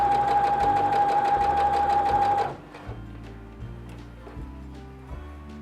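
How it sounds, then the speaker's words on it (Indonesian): A sewing machine stitches a sleeve in a fast, steady run, then slows to short intermittent bursts of stitching, close and clear, with no voices. "Nah setelah itu ini aku lanjutkan aja jahitnya."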